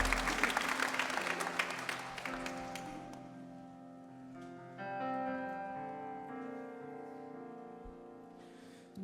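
A church congregation claps during a Sunday worship service, a burst of applause in the first couple of seconds fading into sustained organ-like keyboard chords that carry on alone.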